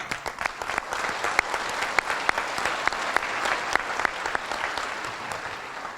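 An audience at an evening academic awards ceremony claps in a dense, steady roll of applause, loud and sustained with no voices above it.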